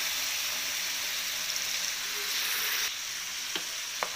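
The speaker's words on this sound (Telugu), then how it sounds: "ఇప్పుడు మసాలాలన్నీ ఇలా వేగిన తర్వాత ఒక 1/2 కప్పు పెరుగు వేసుకోవాలి।" Yogurt poured into a pan of fried spices for paneer 65 sizzles steadily and loudly throughout, with faint stirring clicks toward the end.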